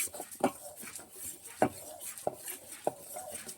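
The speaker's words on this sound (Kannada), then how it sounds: "ಸಾಸಿವೆ ಹಾಕ್ಕೊಳ್ಳೋಣ ಇದು ಕೂಡ ಹಂಗೆ ಚೆನ್ನಾಗಿ ಫ್ರೈ ಆಗುತ್ತೆ ಸ್ವಲ್ಪ ಚಟಪಟ ಅಂತ ಹೇಳಿ" Mustard seeds splutter in hot oil alongside frying urad dal while buttermilk upma is made, giving a few sharp, separate pops over a low background sizzle.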